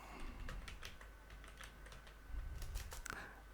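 Keys clatter in quick, uneven bursts on a computer keyboard while data is entered into a Microsoft Access table, soft and close with a faint low background hum.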